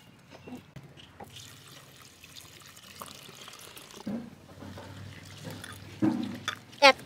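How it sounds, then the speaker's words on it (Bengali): Flattened rice (chira) being washed by hand in a bowl of water, with quiet intermittent sloshing and dribbling, louder splashes near the end, and a voice talking faintly at times. "এই চিড়েটাকে প্রথমে ধুয়ে পরিষ্কার করে জলে ভিজিয়ে দেবো।"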